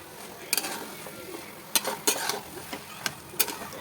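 Grated carrots stirred and roasted in ghee for gajar halwa over a high flame, a spoon scraping the pan in a few sharp clinks and scrapes against a quiet sizzling background.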